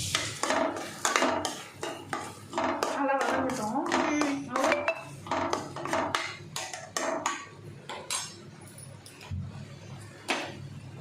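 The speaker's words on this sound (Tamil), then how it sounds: "போதும் அது இப்போ நல்லா வதக்கி விட்டுக்கலாம்" Metal utensil repeatedly scraping and clattering in a pan while sautéing for a capsicum gravy, brisk irregular stirring strokes, close and fairly loud.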